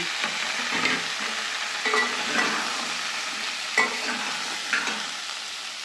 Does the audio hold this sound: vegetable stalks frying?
yes